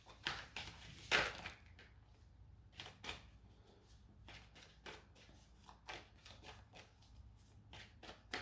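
Tarot cards shuffled by hand in a series of close, crisp riffling bursts, loudest near the start, then lighter intermittent flicks and slides.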